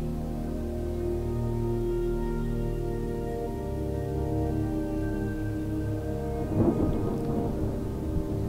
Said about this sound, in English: I heard the sudden rumble of thunder as dark clouds suddenly gathered in the sky, and it began to rain.